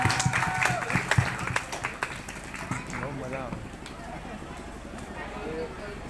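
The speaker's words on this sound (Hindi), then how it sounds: "तो इसी बात पे बजा देनी चाहिए तालियां।" An audience at a school qawwali performance claps, with a dense burst of applause at the start that thins into scattered claps under singing and crowd noise.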